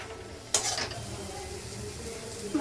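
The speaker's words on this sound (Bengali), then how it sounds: "কষি মশলাটা একটু, যতক্ষণ না তেল ছাড়ে" Spice paste (masala) stir-fried in oil for a Bengali malai curry, a faint steady sizzle with a sharp scrape of a spatula against the pan near the start and a small clink at the end.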